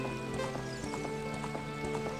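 Horse in the Ocarina of Time video game, soft repeated hoof clip-clops in a steady trotting rhythm over a constant faint game music tone.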